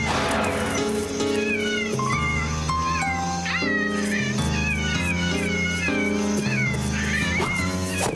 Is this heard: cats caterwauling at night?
yes